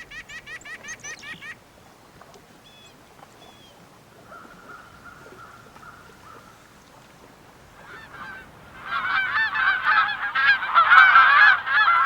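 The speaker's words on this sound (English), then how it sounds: "As flocks of geese make their long journey south" A flock of geese migrating south honks loudly at first, goes quieter, then returns as a dense chorus of overlapping calls that swells toward the end.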